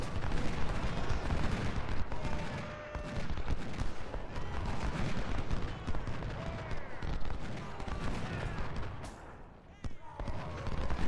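Massed musket and cannon fire from a Civil War battle in the strategy game Ultimate General: Civil War, a dense continuous crackle of volleys with scattered heavier booms throughout.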